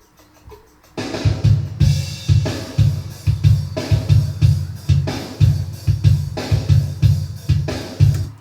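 A drum loop starts after a brief quiet lead-in, then repeats a punchy funk groove of kick, snare and crashing cymbals at a steady, loud tempo, with no voices.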